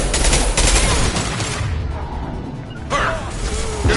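High-impact shot fired in a combat scene of Mass Effect 2 Legendary Edition, heard as a dense burst of loud gunfire and crashing impacts that fades, then a second sharp blast near the end.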